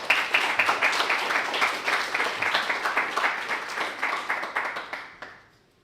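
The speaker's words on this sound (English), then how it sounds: "So if we could all give Didi a big welcoming round of applause, please." An audience claps warmly for several seconds, a dense burst of applause that fades out at the end.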